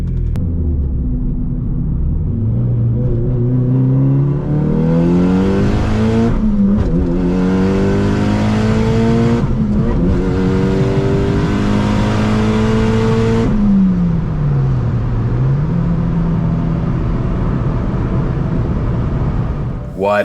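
Mitsubishi Evo 8 with a short shifter revving hard through repeated pulls, engine pitch climbing and dropping at each gear change, loud and steady from inside the car.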